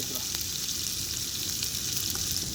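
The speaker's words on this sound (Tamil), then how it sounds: "அது இடித்து வச்ச இஞ்சி பூண்டு பேஸ்ட்டு கொஞ்சம் குறை குறந்தான் இருக்கும் அதையும் போட்டுக்கலாம் நல்லா வதங்கணும்" Crushed ginger garlic paste fries in a pan for quail biryani, a steady close sizzle that holds evenly throughout with no pauses and no talking.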